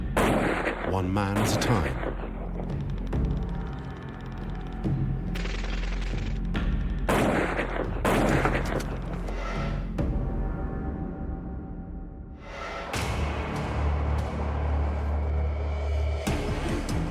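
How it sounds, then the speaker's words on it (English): Heavy long-range sniper rifle able to hit targets nearly 2 km away, fired during a military operation against militants in Iraq; several loud sharp reports with booming tails ring out, with someone narrating over them. "Using the rifle, they pick off the enemy"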